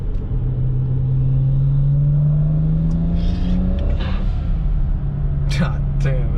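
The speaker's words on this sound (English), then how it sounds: "I hope you guys enjoy the flybys." A stage 2+ tuned BMW 335i E92 with N54 twin-turbo engine and full bolt-ons makes a flyby, its exhaust note climbing in pitch as it accelerates past nearby, then fading into traffic rumble, with voices briefly heard toward the end.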